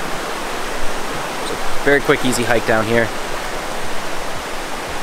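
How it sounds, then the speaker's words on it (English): River rapids rush around a bend in a forest river, a steady broadband roar of moving water close by, with someone talking briefly over it. "not much of a waterfall at all, but a nice little bend in the river, a little bit of rapids"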